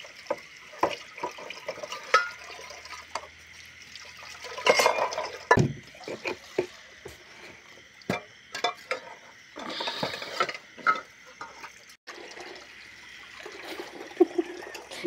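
Dishes being washed by hand with water: intermittent splashing and trickling with scattered clinks of utensils, fairly close, with no talking.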